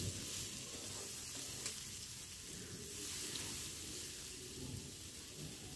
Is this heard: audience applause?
no